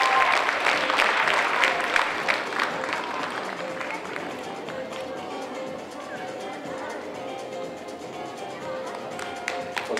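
Audience applause at a gala concert in Prague for a children's folk and modern dance festival, a dense steady clapping that runs the whole stretch at even loudness, with a light murmur of crowd voices underneath.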